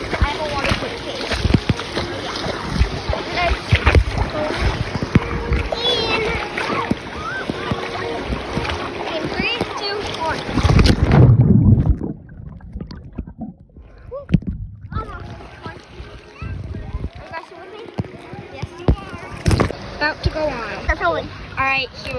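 Rushing, splashing water on a water park slide, loud and continuous as a rider slides through, then a drop into quieter water with splashes and a voice talking and shouting close by.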